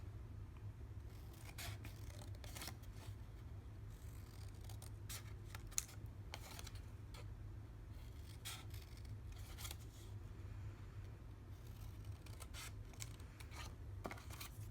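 Scissors trim the corners of a cardstock template, a series of faint, crisp snips and clicks spaced irregularly over a low steady background hum, with no talk.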